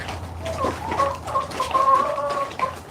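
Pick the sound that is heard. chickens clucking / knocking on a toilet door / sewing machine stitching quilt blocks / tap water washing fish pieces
chickens clucking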